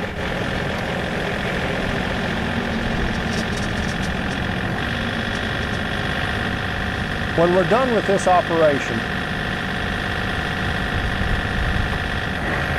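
A steady tractor engine drone runs throughout, rumbling and constant, with a voice briefly speaking over it.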